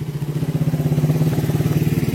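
A Honda Supra motorcycle engine with a faulty decompressor that won't rev fully runs close and loud with a steady rapid pulsing idle throb, a fast even rhythm of firing beats.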